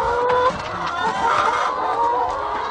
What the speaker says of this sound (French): Et ici, à l'intérieur, il n'y a que 7 poules au mètre carré.